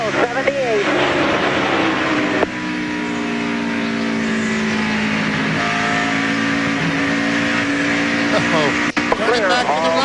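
A stock car engine roars and revs continuously at the 2001 MBNA.com 200 race, pitch rising and falling through gear changes as it laps, with a commentator talking over it.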